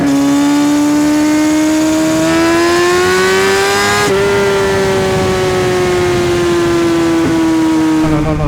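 2017 Kawasaki Ninja ZX6R 636 sport bike fitted with a full Akrapovic exhaust system, loud and close, its engine note rising steadily, snapping through a shift, then pulling again under sustained throttle with no talking.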